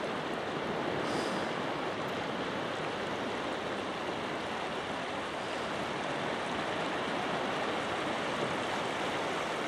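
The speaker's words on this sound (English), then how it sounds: "that water running down there" A burn in Carnoustie running through a golf course area, a continuous broadband rush of flowing water, steady and moderately loud throughout with no talking.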